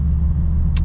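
A used car for sale in the Philippines idles close by with a steady low rumble, and a brief sharp click cuts in near the end.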